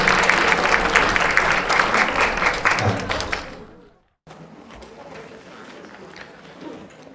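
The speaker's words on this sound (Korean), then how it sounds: "힘찬 박수로 맞아주시면 감사드리겠습니다" Audience applause at an education presentation as the presenter is welcomed, dense and steady for several seconds before stopping abruptly; the presenter then speaks over a quieter room.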